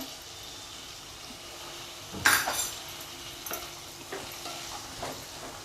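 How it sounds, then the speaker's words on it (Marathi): Soaked lentils are stirred and sautéed in a pan for a ridge gourd bhaji. A sharp utensil clink is followed by soft scraping and a quiet sizzle, with no one speaking. "ही डाळ घालून पण छान परतून घेऊया"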